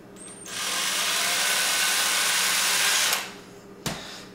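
A power tool driving bolts to mount relays for a 12-volt relay system: one loud continuous whirring burst of about two and a half seconds that winds down, followed by a sharp clunk.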